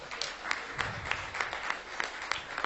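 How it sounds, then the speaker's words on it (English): An audience at a property launch claps, light scattered applause with distinct individual claps in a loose rhythm, moderately quiet. "Clap hands for that."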